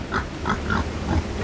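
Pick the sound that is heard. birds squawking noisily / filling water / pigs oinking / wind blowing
pigs oinking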